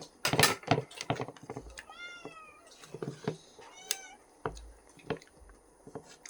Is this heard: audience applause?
no